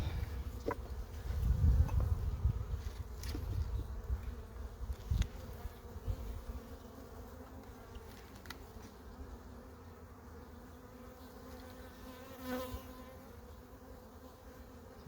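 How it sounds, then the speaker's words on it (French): A steady low buzzing of black bees hums throughout, close and continuous, with occasional clicks and a brief louder rumble early on. "Très très noir ces abeilles, très très noires."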